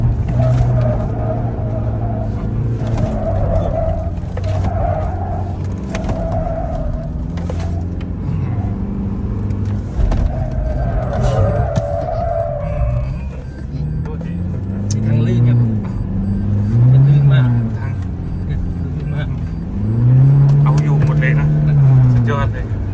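A Toyota Revo GR Sport pickup climbing a steep slope, its engine droning and rising in pitch with repeated revving surges, loud and close inside the cab under ongoing talk.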